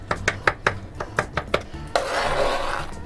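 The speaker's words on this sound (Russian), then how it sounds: "и режу еще одну картошку" A knife chops through potato on a cutting board in a quick run of about eight sharp, evenly spaced knocks, close and fairly loud, followed by a softer scraping rustle.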